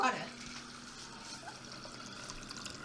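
Water from a refrigerator dispenser runs into a cup, a steady trickling stream heard close by for the whole stretch, with a faint tone and background noise beneath it.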